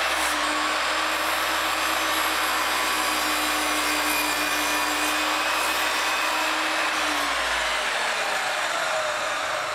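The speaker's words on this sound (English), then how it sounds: "Therefore, I had to recut and shorten them on the miter saw." A miter saw spins up and cuts through a wooden panel piece for a case, a loud, steady whine holding for about eight seconds before winding down near the end, with no talking.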